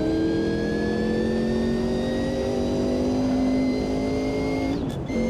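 A race car engine in the Automobilista 2 sim racing game drones loud and steady, its pitch climbing smoothly as the car accelerates, with a brief dip near the end.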